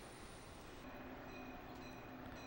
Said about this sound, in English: And they have like a commuter train. This is one of the end stops.